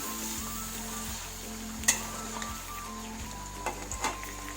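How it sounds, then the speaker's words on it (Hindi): One kilo of chicken goes into a cup of hot oil in an iron karahi, giving a quiet continuous sizzle with a few faint clinks and taps over a low steady hum. "ऑयल गर्म हो चुका है और अब मैं उसमें ये चिकन डाल दूँगी।"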